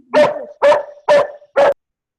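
A dog barks four times in an even rhythm, each bark loud, close and sharp, followed by silence.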